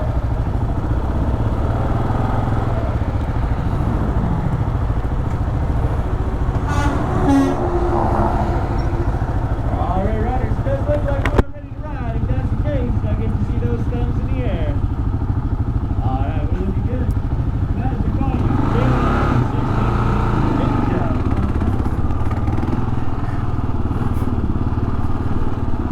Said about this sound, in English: Okay, so this is a KLR 650 Kawasaki.